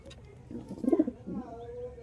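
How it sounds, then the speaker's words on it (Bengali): Madras pigeons coo softly in a short burst of low, throaty notes, close by but fairly quiet. "দেখো সব ম্যাড্রাস পায়রা"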